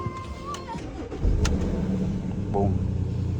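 A 2016 Porsche Cayenne engine cranks and catches, settling into a steady close idle rumble after a brief electronic chirp.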